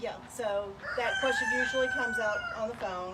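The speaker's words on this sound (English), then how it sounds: "obviously you heard the rooster in the background." A rooster sitting outside a window beside a backyard chicken coop crows one long, drawn-out call near the microphone while a person keeps talking over it.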